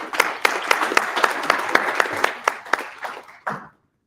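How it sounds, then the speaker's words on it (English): An audience at a tech meetup talk applauds a speaker, its clapping dense with a few louder claps. The applause fades toward the end and then cuts off. "So a round of applause for Ted."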